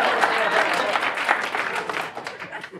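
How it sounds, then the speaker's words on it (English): A comedy club audience breaks into applause during a stand-up set: dense, close clapping from a crowd that holds briefly and then tapers off. "The guys always applaud louder at that one."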